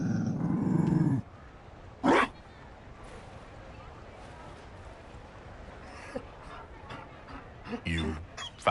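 A Mabari war dog from Dragon Age Inquisition growls in a short, loud burst at the start, followed by brief sharp barks and yips scattered over quieter background noise, with voices talking in between.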